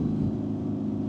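A BMW R nineT motorcycle fitted with an Akrapovic exhaust holds a steady, loud, deep engine drone with throttle opened, continuous and unbroken across the short stretch with no talk.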